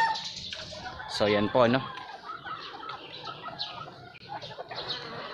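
Farm chickens, cockerels and hens kept in fly pens, cluck and call in short bursts, with one loud call near the start, under brief speech from a man.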